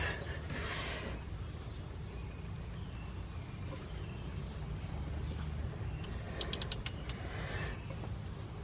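A wrench turning on a car bolt during a driveway turbo install gives a few faint creaks and ratcheting clicks near the end, over a steady low background hum.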